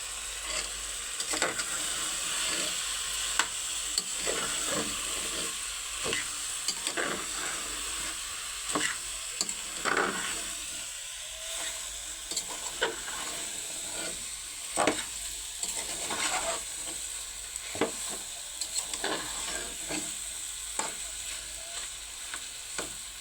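Curry spice paste frying in a pan, a continuous hiss and sizzle with repeated scraping stirs at an irregular pace, close and moderately quiet, with no one speaking.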